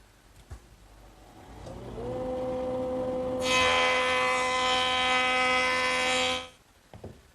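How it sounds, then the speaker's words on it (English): An electric hand plane runs along the scraped edge of a curved wooden rail: the motor spins up to a steady whine, then a louder cutting rasp for about three seconds before winding down. "Now I'm just going to plane the edge that I just scraped."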